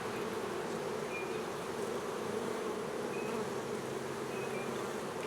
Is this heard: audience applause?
no